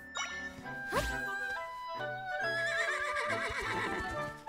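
A horse whinnies loudly with a rising, wavering call, followed by a second neigh and soft hoof clops amid game tones, in The Legend of Zelda: Echoes of Wisdom.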